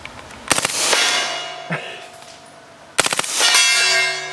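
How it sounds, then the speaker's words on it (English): Two quick bursts of full-auto gunfire strike a steel gong, each burst a rapid string of sharp impacts followed by a long, bright ringing that slowly decays outdoors. "try to hit the gong full auto"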